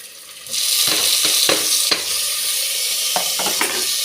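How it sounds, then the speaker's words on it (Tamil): Onion and chopped tomatoes sauté in a pan for a cabbage kootu. A loud sizzle starts abruptly and carries on steadily, broken by several close scraping stirs of the spatula, with no talking. "இப்போ இந்த தக்காளியையும் நல்லா வதக்கிடுங்க"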